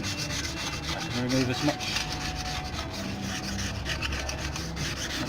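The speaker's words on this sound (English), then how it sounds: "And using the scraper," A hand scraper strips clear protective coating off a boat propeller blade in a shipyard, making a continuous, close rasping scrape while someone speaks briefly over it.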